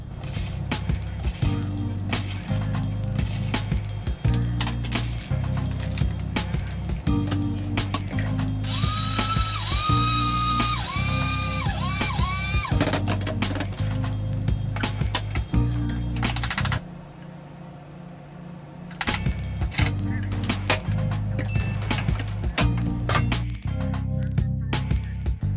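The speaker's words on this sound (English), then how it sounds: "Let's grind some of it up, brew some of it up," A grinder works through Black Rifle Coffee Company Murdered Out beans. It makes a loud, continuous mechanical ratcheting crunch, with a brief higher whine partway through and a short quieter lull before the grinding resumes.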